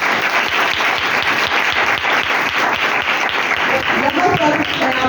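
A church congregation at a Sunday service applauding steadily for several seconds, dense loud clapping with a voice faintly underneath.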